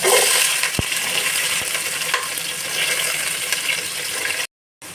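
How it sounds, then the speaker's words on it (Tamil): Loud, steady sizzling and crackling of whole cinnamon and cloves frying in hot oil for mutton biryani, with a couple of clinks, ending abruptly. "எடுத்து வச்சுருக்க பட்டை லவங்கம்லாம் எல்லாத்தையும் கொட்டி எண்ணெயில் பொரிக்க போகிறோம்"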